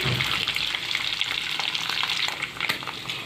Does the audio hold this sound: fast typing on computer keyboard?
no